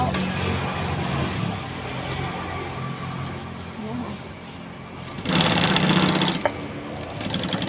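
A sewing machine runs steadily while stitching a curved seam on a shoe upper, its mechanical whir continuous and moderately loud, growing louder and brighter toward the end as the stitching speeds up.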